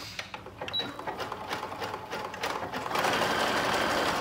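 A domestic sewing machine runs a steady zigzag stitch along a butted seam in stretch boxer-brief fabric, a fast even whirring clatter that grows louder and denser near the end, close and alone.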